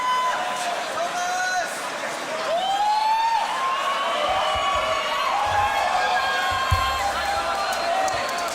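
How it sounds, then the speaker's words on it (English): A crowd at a beatbox battle cheers and whoops as a competitor is introduced, a loud sustained roar with rising shouts, while an MC speaks over the noise. "make some noise and give it up for Tomazacre."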